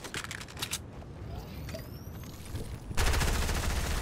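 Gunfire in a Fortnite competitive match, distant rapid shots early on, then a louder close burst of automatic fire near the end, with faint mechanical clicks between.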